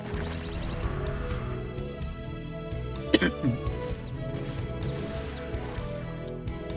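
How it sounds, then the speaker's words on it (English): A single short cough cuts sharply through steady background music and game sounds. "excuse me for my cough again"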